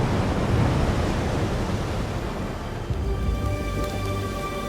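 Ocean surf with waves washing in a steady, loud broadband roar that swells slightly, with no voices.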